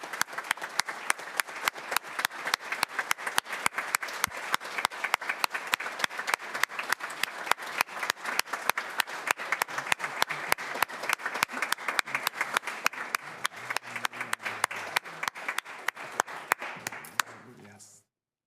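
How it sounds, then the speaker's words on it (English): Sustained applause from the audience at a school board public meeting, dense rapid clapping holding steady for about seventeen seconds before stopping abruptly. "Please give a big round of applause to our newly inducted, appointed Indigenous trustee."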